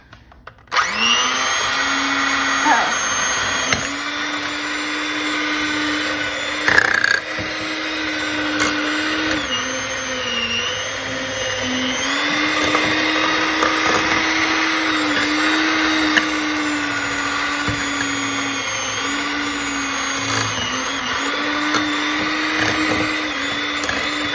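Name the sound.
electric mixer creaming butter for cookie dough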